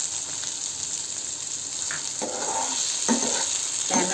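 Tomatoes and green chillies frying in hot oil for Maharashtrian tomato chutney, a constant soft sizzle with a few scraping stirs near the end, fairly quiet and with no voices.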